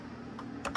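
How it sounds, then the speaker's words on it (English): Arrow keys tapped on a computer keyboard while navigating a drive menu, a few soft quick clicks near the end of a brief stretch over low steady background hum. "And then I can use the arrow keys"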